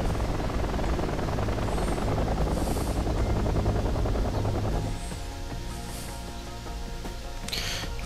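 Helicopter in the Wargames online battle video game, a steady buzzing rotor drone with dense low rumble that softens slightly halfway through, continuous and fairly distant in the game mix.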